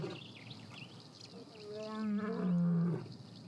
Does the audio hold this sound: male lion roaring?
yes